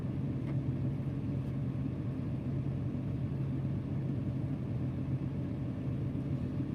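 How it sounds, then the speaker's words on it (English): A truck with a brand new Cummins ISX engine, turned down to 450 horsepower, hauling cars, gives a steady low rumbling drone that holds at an even, moderate level without a voice. "it's a brand new Cummins ISX. It's just turned way down to 450 horsepower."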